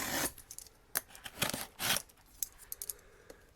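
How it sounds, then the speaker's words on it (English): Wire cutters snip through car wiring, a run of sharp metallic clicks and crunchy snaps at uneven intervals, close and fairly quiet against a low room hiss. "Watch me cut all the wires now."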